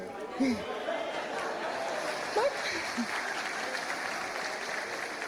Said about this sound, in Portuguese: essa reação das palmas me preocupa um pouquinho